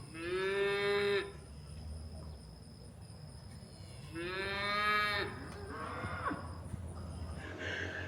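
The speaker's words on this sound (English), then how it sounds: "That's the first time we've ever heard little man moo" A young cow moos twice on a farm, each call a drawn-out, rising-and-falling bellow about a second long, fairly close, with insects chirring steadily in the background and no talk.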